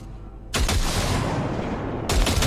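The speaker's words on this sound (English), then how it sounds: "Fire a short burst into it." A short burst of gunfire is fired into a pile of junk in Cyberpunk 2077. Loud, dense automatic fire starts abruptly, rattles for about one and a half seconds, then a second burst kicks in right at the end.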